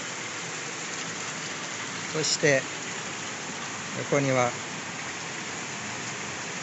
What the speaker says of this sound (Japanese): ちょっとね、今雨がね降り出したんですけど